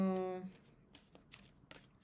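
Tarot cards are shuffled by hand in soft, quick riffling bursts, close and fairly quiet, following a brief sung or hummed tone at the start.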